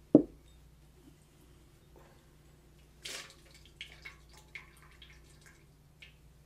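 A wine glass being rinsed with water at a wine tasting: a soft splash at the start, then quiet drips, small plops and trickles spaced out, faint and close.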